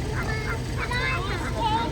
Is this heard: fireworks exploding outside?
no